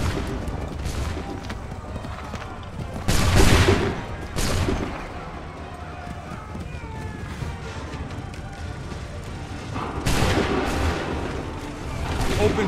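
Musket volleys fire in Assassin's Creed III, with a couple of loud crackling bursts followed by another later, under shouted commands and battle noise.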